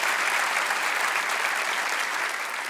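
Steady, loud applause from a church congregation, a continuous wash of many hands clapping together without pause and no speech on top.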